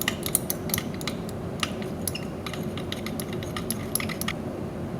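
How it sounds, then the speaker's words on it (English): Glass stir rod clinking rapidly against a glass container while vigorously stirring a two-layer nylon polymer solution, bright irregular taps over a low steady background. "I'm now going to take my stir rod and vigorously stir the"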